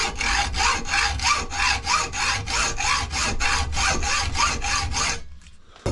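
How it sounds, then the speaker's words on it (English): A hacksaw blade cuts a groove in metal on a bike build with steady, even back-and-forth rasping strokes, about thirteen in quick rhythm, close and loud, then stops. "Let's get our hacksaw blade and just nicely see if we can't cut ourselves a nice groove in the top of here."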